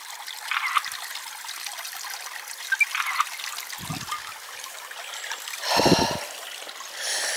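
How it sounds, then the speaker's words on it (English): A small brook trickles quietly in the countryside, a soft continuous babble, with a couple of brief low thuds and a louder splashing gush near the end. "Trickling Brook."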